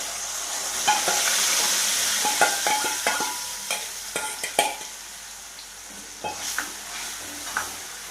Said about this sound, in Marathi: थोडा मसाला फ्राय होऊन द्या 5 मिनिटासाठी